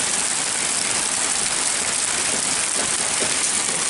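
Heavy rain pours steadily outside an old house in Kentucky, a dense, continuous hiss of water coming down at constant loudness with no voices over it.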